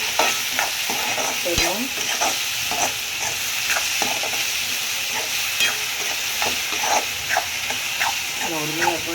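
Egg rice stirred and fried in a pan, with a continuous close sizzle and hiss broken by repeated scraping strokes of the spatula, while someone talks briefly over the cooking.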